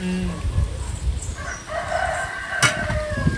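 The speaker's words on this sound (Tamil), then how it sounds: "கோழிங்க மூணு மணிக்கு கூவுதுங்க" A rooster crows in a long drawn-out call over a background of clucking and farmyard bustle, moderately close.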